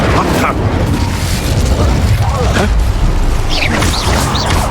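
Incendio fire spell cast during combat in Hogwarts Legacy, a loud whooshing burst of flame amid continuous booming spell effects and battle noise, with chirpy magical sparkles near the end.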